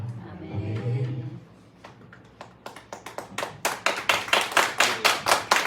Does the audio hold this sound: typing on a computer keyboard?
no